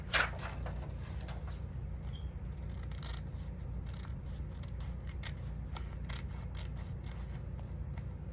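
Scissors snip paper being trimmed for a small altered calendar, quiet close cuts and slight rustling over a low steady background hum.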